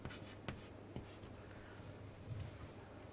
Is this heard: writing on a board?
yes